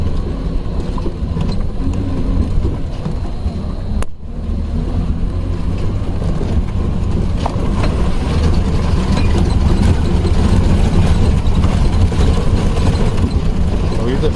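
Gypsy jeep climbing uphill at night, a loud, steady low engine drone running continuously, with a brief dip early on and a voice talking over it.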